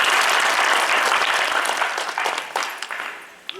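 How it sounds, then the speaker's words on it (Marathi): Audience at a village retirement ceremony for a former soldier applauding loudly, a dense burst of clapping that thins out and fades toward the end. "यांच्या पुढील आयुष्यासाठी जोरात टाळ्या वाजवू"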